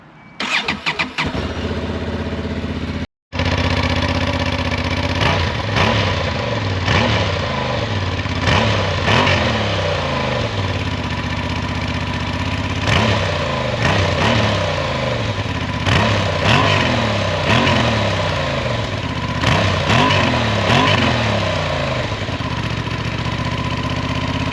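A motorcycle engine cranks and fires, stumbles briefly, then runs loudly and close with repeated throttle blips rising and falling over a steady idle, no talking.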